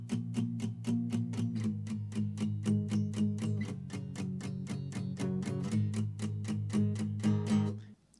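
Palm-muted guitar chords slide down and back up the neck in a steady chugging rhythm for a riff, close and fairly loud, each stroke short and clipped, with no talking.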